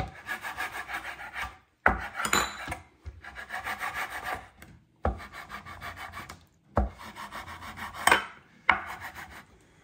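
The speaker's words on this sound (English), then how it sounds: "I'm just going to just cut it into strips like this." Knife slicing food into strips on a cutting board for linguine fini carbonara, with bursts of close, rhythmic rasping strokes separated by short pauses.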